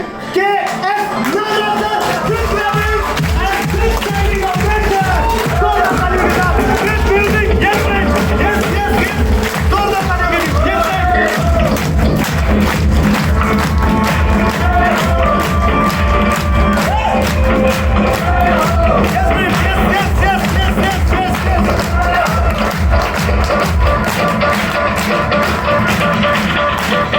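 Crowd applause and cheering at a business products training event, welcoming a marketing head onto the stage; dense, loud and sustained throughout, with rhythmic clapping and occasional shouts over music.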